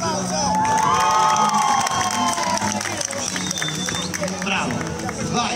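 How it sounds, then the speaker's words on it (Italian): A crowd at a holiday village cheers, shouts and claps loudly with children's voices mixed in, a continuous lively roar over music and an animator's voice through the whole stretch. "applauso."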